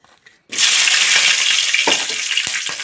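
Long-cut green chillies hit hot oil and burst into a loud, steady sizzle and crackle of frying that continues throughout, with a few sharper pops and spatters near the end, and no voices.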